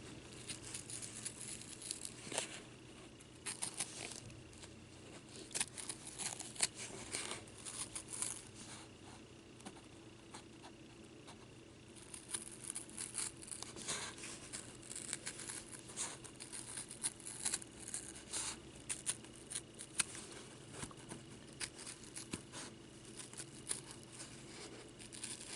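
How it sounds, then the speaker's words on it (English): Scissors snipping through stiff felt, close and quiet, with irregular crisp crunching cuts and rustling in a continuous stream, a brief pause midway, then more cutting. "Yeah, I love the way this stiff felt cuts anyway."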